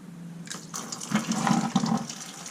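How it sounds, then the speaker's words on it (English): Engine coolant gushes and splashes out of a YZ250F motorcycle, a close, wet rushing that builds after a soft start and continues steadily to the end, with no talking. "I just got blasted with coolant."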